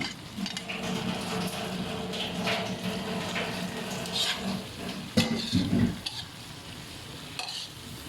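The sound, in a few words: raw vegetables stir-frying for egg veg chow mein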